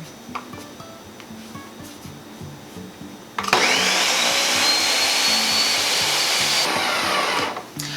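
A kitchen mixer blending keto brownie batter made with lupin flour starts abruptly and runs as a steady loud whir for several seconds before cutting off, with faint kitchen handling sounds before it.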